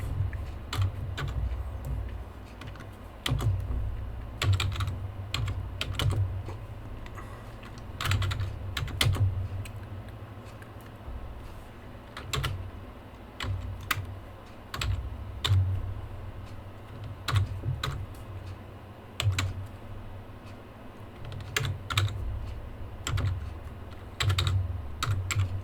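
Steady clicking of a computer keyboard as code is typed for a .NET MAUI to-do list app, in irregular bursts of keystrokes, close and clear with no speech.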